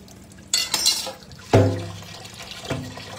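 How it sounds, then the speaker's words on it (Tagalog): Used dishes being washed under running water in a sink, with splashing, clattering and gurgling bursts against the steady flow, close and fairly loud. "At hugasan natin siyempre ang mga ginamit natin."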